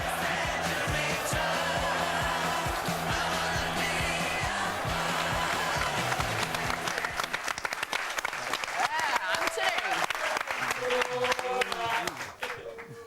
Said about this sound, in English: the Manchester crowd go wild